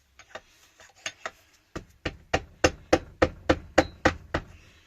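Gentle hammer taps on a Suzuki FZ50 engine case to separate its dowels, about a dozen sharp knocks in a steady, quickening rhythm, close up with no talk.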